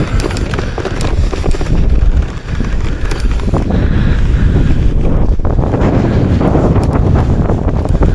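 Strong, steady wind buffeting the microphone in open fields, a loud continuous rumble with gusty roar and no voices.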